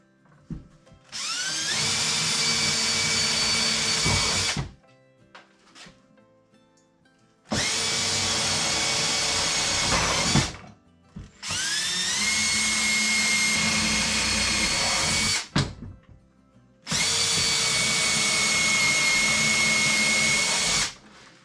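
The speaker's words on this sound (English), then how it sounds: "I'm going to drill some holes" A power drill whines in four separate bursts, each lasting a few seconds, with short quiet pauses in between, drilling holes for a shop-made fuel dolly; close and loud, no talking.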